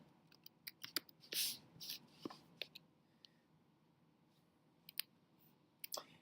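Faint, sparse clicks of keys on a computer keyboard as a hashtag is typed, arriving in short irregular bursts with quiet pauses between them.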